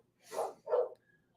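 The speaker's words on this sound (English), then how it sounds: "Does the microphone pick up the dog barking?" Dog barking indoors while playing in a living room: two short, sharp barks in quick succession, fairly close and moderately loud, followed by quiet.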